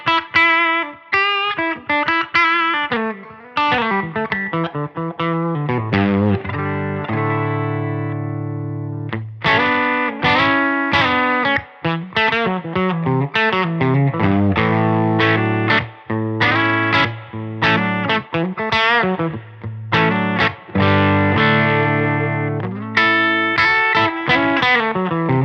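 An electric guitar with a bolt-on neck, run through distortion and other effects, plays a steady stream of loud, driven riffs and chords for the whole stretch, with brief gaps between phrases.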